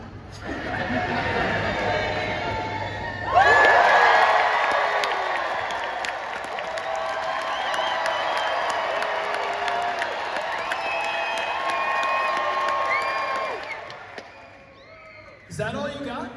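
A baseball fan crowd at a winter event cheers on cue, a loud roar that swells suddenly, holds for several seconds, then cuts off sharply before a brief second burst, with voices and whoops mixed through it.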